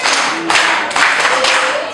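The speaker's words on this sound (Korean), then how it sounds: "칭찬 박수 합시다" A congregation at a church service claps hands together in brisk, continuous applause, fairly loud and close, with the rhythm pulsing in slight waves.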